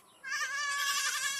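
Goats on a farm bleat in a sudden, fairly quiet, wavering cry that starts after a short silence and holds steadily to the end, with no talking.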